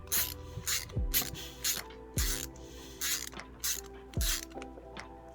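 Screws are tightened into a small 3D-printed plastic antweight combat robot, giving repeated bursts of close ratcheting and whirring, with short mechanical clicks and pauses between the bursts.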